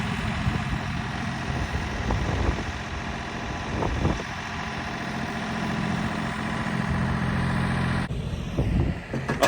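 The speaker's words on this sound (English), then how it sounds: "Hang on, gonna let that tractor warm up." A tractor engine idles steadily while warming up, producing a continuous low rumble with a constant mechanical drone, close and fairly loud, with a few faint knocks and a slight shift in tone near the end.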